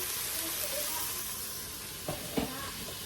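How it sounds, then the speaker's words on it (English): Mushrooms hitting a hot pan on a stove burner give a steady sizzling hiss, with a couple of brief louder crackles and stirring clatters near the end; no talking. "Adding in the mushrooms. Mushrooms are in."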